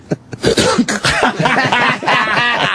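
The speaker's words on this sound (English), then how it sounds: "End it with his dumb cough." One man coughs several times in harsh, close bursts during a radio talk show, mixed with throaty noises and fragments of voice.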